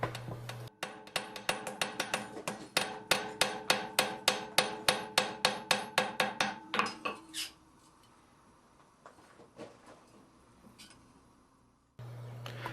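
Blacksmith's hammer rings out in a fast, steady run of about two dozen loud, bright strikes on a hot iron bean for a Suffolk latch, then stops, leaving quieter scraping and a few scattered taps.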